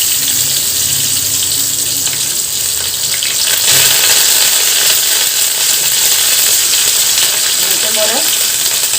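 Curry leaves, small onions and dried red chillies frying in hot oil for a Kerala curry, a loud, close, continuous sizzle and spatter that swells partway through, with faint background sounds.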